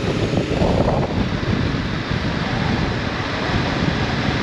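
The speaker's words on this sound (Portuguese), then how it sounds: "Está aí muito vento." Strong wind roars over a BMW F 850 GS Adventure 2022 on the move, a constant, loud, broadband rush of wind buffeting the rider's microphone with no break.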